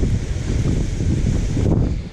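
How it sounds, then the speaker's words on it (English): Strong wind buffets across an open farm pond during bass fishing, a steady loud roar with rumbling gusts pressing on the microphone, unbroken for the whole stretch. "Get my back to the wind so you might actually be able to hear me"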